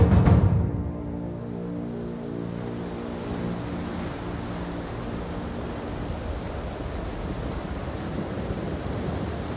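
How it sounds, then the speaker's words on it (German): Rough Pacific sea with churning waves under rain squalls, a sustained loud broadband roar of surf and wind after a brief sharper impact at the start, steady and continuous with no voices. "Die See ist rau. Regenstürme peitschen über die aufgewühlten Wellen hinweg."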